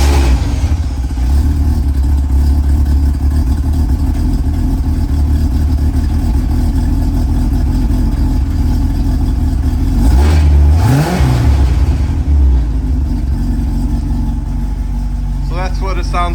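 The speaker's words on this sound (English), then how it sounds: "So that's what it sounds like with the exhaust" A 1984 C4 Corvette with a modified old exhaust runs steadily, its low engine drone loud throughout, with a brief rev swelling near the middle and voices talking over it.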